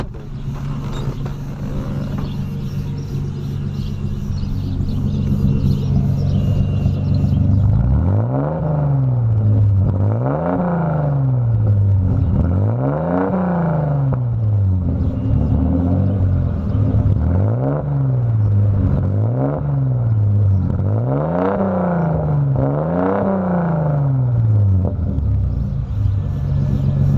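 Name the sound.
Audi 80 wagon engine revving, heard at exhaust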